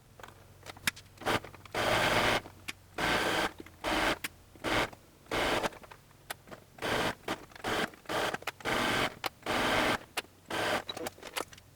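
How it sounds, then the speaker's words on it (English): Home sewing machine stitching through two layers of blanket fabric, joining a poncho hood to the neckline, in repeated short bursts of rapid mechanical whirring separated by brief pauses, close and fairly loud, with no talking. "my first pass through the sewing machine, I am only going to be sewing through 2 layers"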